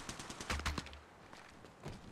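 Automatic gunfire in the mobile battle royale game Apex Legends Mobile during an intense final-circle fight, a quick rattling burst of rapid shots followed by scattered fainter pops, moderately quiet.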